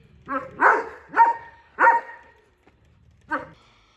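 A dog barks four times in quick succession, close by, then gives one more bark after a short pause.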